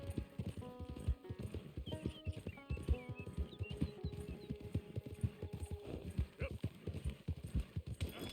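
Horse hooves clip-clopping at a steady galloping rhythm in Red Dead Redemption 2, close and even, with light background game sounds.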